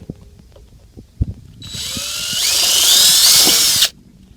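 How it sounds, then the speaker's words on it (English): A power drill whines up sharply and runs at a high, rising pitch for about two seconds drilling out a rivet, preceded by a few light clicks and taps. "you will drill directly in to the hole there"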